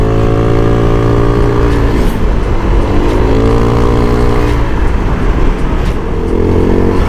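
A motorcycle engine drones loudly up close on a touring ride toward Bandung, its pitch rising and dipping as it accelerates through gear changes.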